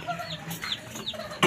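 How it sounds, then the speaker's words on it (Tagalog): A chicken clucking in a few short, soft bursts, fairly faint against quiet background noise, with no talk. "Andito yung manok."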